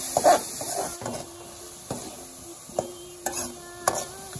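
Chicken pieces with garlic and ginger cook in oil Chakma style, with a low sizzle under irregular scraping and knocking strokes of stirring, some louder than others, and no speech.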